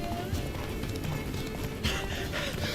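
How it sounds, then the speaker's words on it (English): Hooves clip-clop in a quick galloping rhythm as the horse runs in the video game Witcher 3, close and steady, with someone speaking over it. "Run, Roach"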